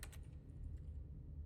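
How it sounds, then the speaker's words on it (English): Soft clicks of someone typing words on a computer keyboard while playing The Stanley Parable: Ultra Deluxe, a quick burst of keystrokes, faint against a low steady hum. "you could activate by typing in words into your keyboard"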